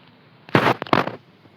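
A grenade explodes in the video game Rivals as two quick, loud, close blasts, each a short cracking burst less than half a second apart, with no talking.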